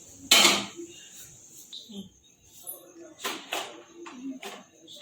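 A greased pan of khaman batter set into a pot of hot water for steaming: one loud metallic clank near the start, followed by softer clinks and shuffling kitchen handling.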